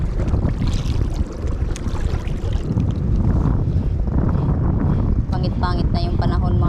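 Rough sea with crashing waves and gusting wind buffeting the microphone aboard a small fishing boat, a steady loud broadband roar throughout, with a brief higher clattering near the end.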